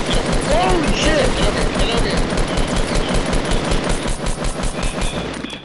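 Rapid bursts of assault rifle fire in a multiplayer video game, dense rattling shots in quick succession at high volume, with a player's voice talking over the gunfire.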